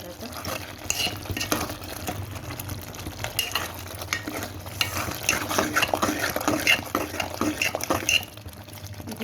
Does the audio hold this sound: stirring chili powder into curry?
yes